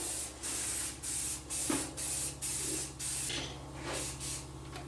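Repeated short bursts of aerosol spray paint hissing from a can, separated by brief pauses, close and fairly quiet.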